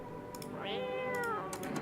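A single drawn-out cat meow rising then falling, close and clear over steady room hum, with a few faint clicks around it.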